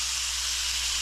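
Meat searing in butter in a hot pan gives a steady, bright sizzle with an even hiss and no break, close up, with no voices.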